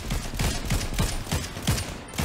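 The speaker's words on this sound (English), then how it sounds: "More gunfire." Gunfire in an online battle royale shooter match, a rapid series of about eight evenly spaced sharp shots forming a steady burst, moderately loud over continuous game ambience.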